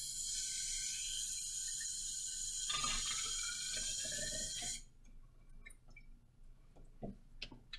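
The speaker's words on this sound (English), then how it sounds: "take your graduated cylinder over to your sink and fill it up with water" Tap water pours into a graduated cylinder at a sink, a bright, steady rushing stream whose pitch rises as the cylinder fills, then stops, followed by faint drips and small clinks.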